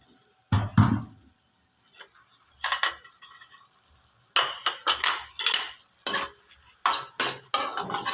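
Mushrooms going into a pan of carbonara sauce with ham, a series of sharp clattering scrapes of utensil against pan in uneven bursts, separated by quiet gaps, with no talk over them.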